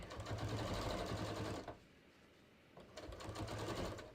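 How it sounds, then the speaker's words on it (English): A home sewing machine top stitches down the leg of a pair of jeans, running steadily for over a second, pausing for about a second, then running again, loud and alone. "I top stitched down one leg"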